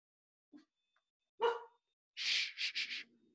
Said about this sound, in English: Sorry, class, my dog is barking.